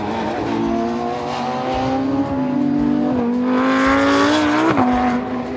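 An Audi R8 LMS GT2 race car drives hard, its engine note loud and close as it revs up and down through gear changes, with sharp pitch shifts and a faint tire squeal, and no talking.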